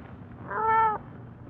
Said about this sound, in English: Don't hurt the cat. Not the poor cat, Jimmy.